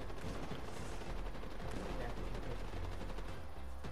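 Gunfire crackles in a Fortnite battle royale match, a quiet, distant-sounding stream of rapid shots and bursts rattling continuously throughout, with faint game noise underneath.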